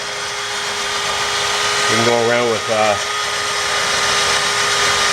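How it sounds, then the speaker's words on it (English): A high-pitched spinning drill fitted with a Scotch-Brite abrasive pad, removing rust during rear brake work on a Chevy Trax, whines for about a second under steady background noise, with someone speaking briefly at the same time. "we just use like a Scotch-Brite pad on a drill here to get most of it"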